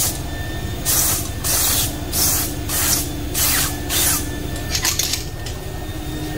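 A spray paint can hisses in repeated bursts while repainting a 1996 Cadillac Fleetwood, each loud spray lasting about half a second with short gaps, close by and without talk.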